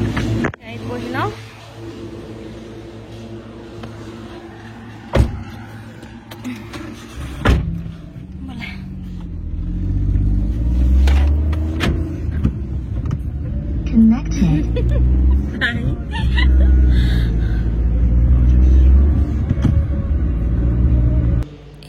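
Getting into a new car: a couple of sharp door thuds, then the engine's low rumble and road noise building as the car moves off, with people talking inside.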